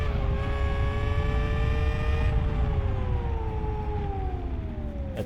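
A race car slides at speed in a racing simulation video game, its engine whine falling steadily as the tyres scrub through the slide, loud and continuous with no talk.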